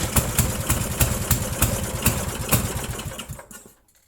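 An old 8 hp Briggs & Stratton small engine that sat for years runs close and loud with a fast, rough, even putter, the rhythm holding steady before it cuts out abruptly near the end.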